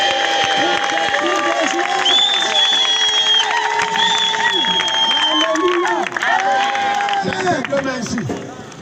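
A large crowd at an outdoor healing crusade cheers and loudly acclaims Jesus, many voices shouting and whooping together in a sustained, loud roar that tapers off near the end.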